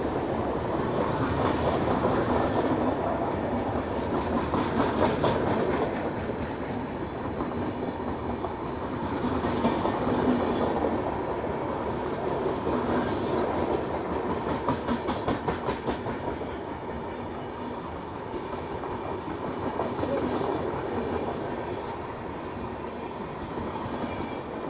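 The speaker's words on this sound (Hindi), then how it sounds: "ये सोनपुर से कोई ट्रेन निकल रही है, छपरा जा रही है।" Sambalpur Gorakhpur Express train rolling past near Sonpur, a steady loud rumble with rhythmic clickety-clack of wheels over rail joints throughout, close by and without talk.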